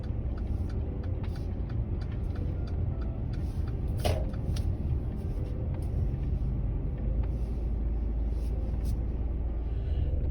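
A car engine idles with a steady low rumble throughout, with faint clicks and a brief rattle partway through, and no talk.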